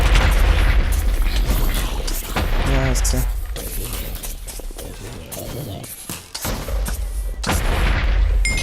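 A charged creeper blows up in the video game Minecraft, giving loud, booming bursts broken by short gaps while someone speaks Swiss German over them.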